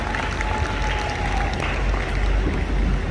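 Loud, dense applause fills a large hall at a direct selling event as hundreds of attendees clap for newcomers, a continuous wash of clapping with no break.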